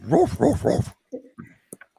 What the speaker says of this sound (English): He said bark.